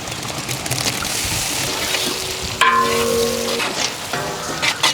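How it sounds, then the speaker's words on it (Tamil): A large batch of onions for ghee rice sizzles and fries in a pan, a steady moderate crackle with brief clatters and tonal clinks partway through. "5 கிலோ பெரிய வெங்காயம் நல்லா பொன்னிறமாக வதக்குங்க"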